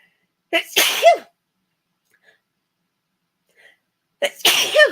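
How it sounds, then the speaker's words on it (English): Two loud, sharp sneezes close to the mic, separated by a few seconds of near silence. "I guess it would be nice if we could plan the sneezes"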